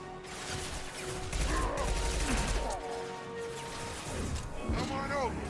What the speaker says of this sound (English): switch to our machine gun pistol